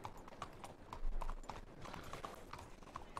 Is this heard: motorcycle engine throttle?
no